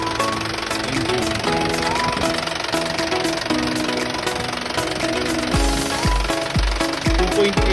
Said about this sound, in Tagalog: Ito yung engine niya, Isuzu 4JB1 engine.